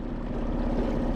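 A small 2.5 horsepower outboard motor idles slowly on a boat at night, a steady close low hum and drone with water noise, with no talk.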